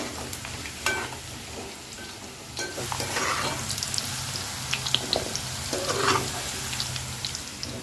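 Amla gooseberries fry in hot oil in a small pan for pickle, giving a steady close sizzle broken by irregular spoon scrapes and clinks as they are stirred.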